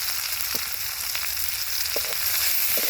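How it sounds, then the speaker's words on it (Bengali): Onions and green chillies fry in hot oil with a steady, dense sizzle that carries throughout, broken by a few faint clicks of stirring. No one speaks. "পেঁয়াজ কাঁচামরিচ খুব ভালোভাবে ভেজা নিছি"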